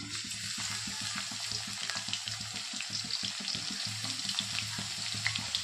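Cumin seeds and garlic sizzle and crackle in hot oil in a home kitchen, giving a continuous soft frying hiss with irregular small pops at moderate loudness.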